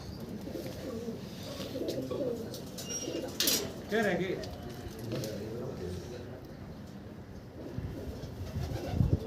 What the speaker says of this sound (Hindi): ये भी भावरा कबूतर